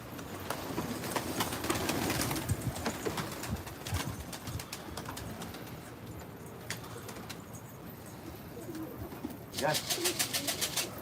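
Pigeons coo and flutter on a rooftop, soft throaty calls mixed with outdoor street noise and people talking nearby, with a burst of wing flapping toward the end.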